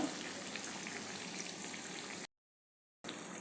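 Bread pakoras deep-frying in hot oil give a steady, dense sizzle with crackling bubbles, close and loud, cutting out abruptly for a moment before resuming.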